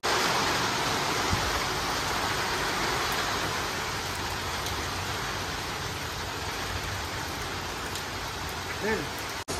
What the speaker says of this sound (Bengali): মৌসুমের প্রথম বৃষ্টিতে আমরা ফুলিয়ে মজা করছি